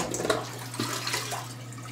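Plunging a clogged toilet with a plunger: wet sloshing and gurgling water sounds with soft suction pulses over a steady low hum, close by and without talk.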